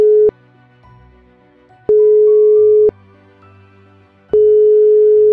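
Telephone ringback tone on an outgoing call back to a patient, heard as three long steady beeps at an even rhythm, each separated by a quiet gap with faint background hum.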